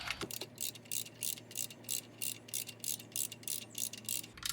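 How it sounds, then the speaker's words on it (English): A torque wrench ratchets steadily while tightening the oil drain plug on a 2005 Volkswagen Passat 1.8T, giving a close, evenly spaced run of crisp clicking bursts with no talk. "once that torque wrench clicks, we are at 22 foot-pounds and do not need to go any tighter"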